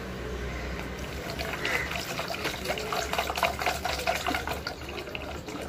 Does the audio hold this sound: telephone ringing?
no